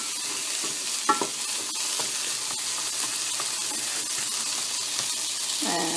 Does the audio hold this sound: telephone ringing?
no